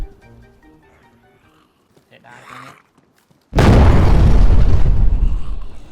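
Explosion in the DayZ video game, a sudden heavy boom that bursts in after quiet murmuring and faint talk, then roars on loud and broad as a sustained rumble.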